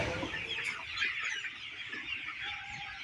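Broiler chickens busy feeding on grower feed cluck and chatter in a close, continuous flock murmur with soft irregular clucks, no voices over them.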